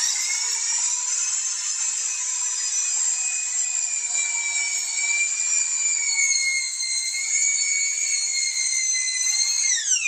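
Steady, loud high-pitched whine of an HSK handheld plastic-welding extruder running continuously as the welding rod self-feeds, holding one tone throughout and dropping slightly in pitch at the very end.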